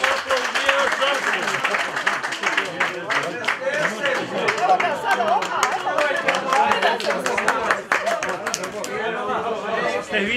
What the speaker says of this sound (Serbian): Ajmo, jedan aplauz.